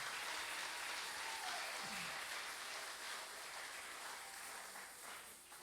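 Church congregation applauding the choir at a Sunday service, a steady wash of distant clapping that holds evenly throughout and eases slightly near the end.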